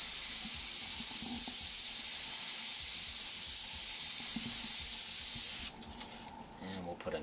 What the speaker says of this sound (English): Do both sides at the same time, just a wide spray so it gets on both rolls.